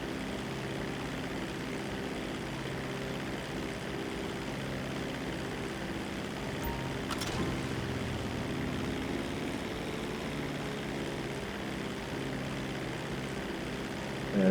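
A seaplane in a video game flies along the coast at sunrise, its propeller engine a steady, even drone that holds level throughout with no voices over it.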